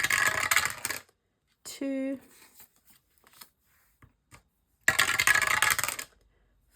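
Dice tumble down a dice tower in two rattling bursts of clattering plastic, a short close pause between them, with a brief spoken word in the quiet gap.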